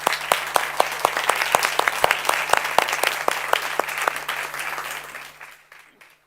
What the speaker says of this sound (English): I ask for an applause for our 3 guests.